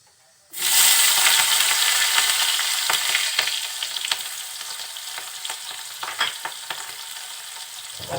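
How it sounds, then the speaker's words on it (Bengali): Chopped onions and green chillies hit hot cooking oil in a kadai, bursting into a loud, close sizzle that slowly settles into a softer crackle with scattered pops. "তেলটা একটু গরম হলে কেটে রাখা ঝাল পেঁয়াজ দিয়ে দিচ্ছি।"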